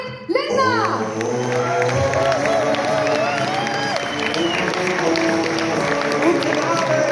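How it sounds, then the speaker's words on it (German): A concert audience at the Klingende Bergweihnacht show in Bad Mergentheim breaks into loud, sustained applause and cheering as a singer takes the stage, with a host's voice ringing out over the opening burst and music playing beneath. "Bitte begrüßen Sie jetzt hier mit einem wirklich tosenden Riesenapplaus."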